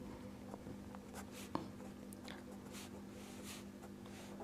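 Pen or chalk writing out an equation during a maths lesson, soft scratchy strokes with one brief tap, faint and steady over a low constant hum, no talking.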